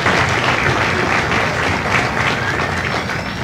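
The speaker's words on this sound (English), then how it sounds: "Give yourselves a round of applause." Sustained audience applause fills the hall at a Marine Corps recruit graduation ceremony at MCRD San Diego, a dense, steady wash of many hands clapping with crowd noise, loud and continuous throughout.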